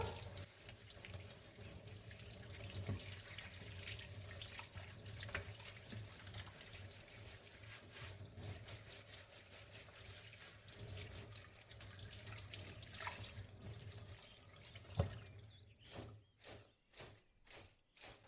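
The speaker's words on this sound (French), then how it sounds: "Je lave bien mes herbes." Parsley and coriander are washed under a running kitchen tap, a steady close hiss of water that goes on for most of the time and ends with a few rhythmic splashing shakes.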